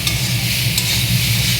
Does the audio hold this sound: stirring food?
yes